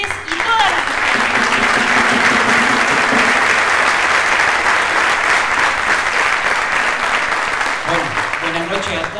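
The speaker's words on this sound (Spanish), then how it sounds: "un aplauso muy fuerte, pero muy fuerte para estas mujeres y todas las mujeres" A women's day event audience bursts into loud, dense applause that holds strong for several seconds, with a voice faintly audible at the very start and end.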